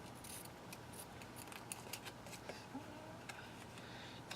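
Scissors trim paper while a basic shaker card is being made, a run of faint, crisp snips repeated irregularly over a quiet room background.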